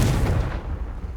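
Casting the explosive spell Confringo in the video game Hogwarts Legacy brings a short, heavy blast with a deep booming body that rolls off quickly.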